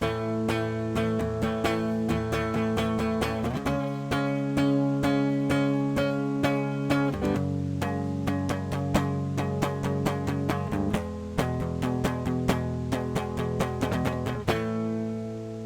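Distorted electric guitar power chords chug through the intro riff of a song, with sustained chord changes every few seconds and rhythmic picked accents, loud and up close with no voices.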